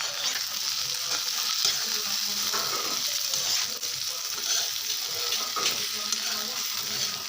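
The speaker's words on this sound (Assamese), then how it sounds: "আৰু এতিয়া সুন্দৰকৈ লৰাই দিম" Eel fish curry sizzling and frying in a pan as it is stirred with spices, a close, continuous crackle with scraping stirring strokes throughout.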